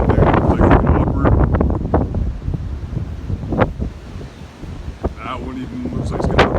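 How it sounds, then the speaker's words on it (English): Strong gusting wind buffets the microphone throughout a windstorm, a dense low rumble that surges and dips, with a few brief higher rustles and knocks breaking through. "It does get even windier."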